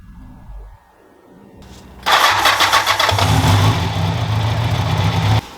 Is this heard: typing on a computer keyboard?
no